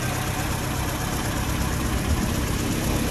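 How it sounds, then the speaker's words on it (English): A warm Ford Cortina 1600E's engine idles steadily under the bonnet, a close, even rumble with a busy low-end churn and no talking over it. "Idling when warm."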